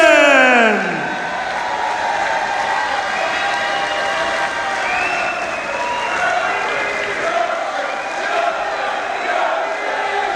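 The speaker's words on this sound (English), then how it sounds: "let's hear a massive round of applause for Jim McCune and your champion, Carl Wilkinson" A large audience applauds and cheers for the champion at a darts final, the British Men's Open, with sustained loud clapping and some whoops filling the whole stretch after a brief opening voice.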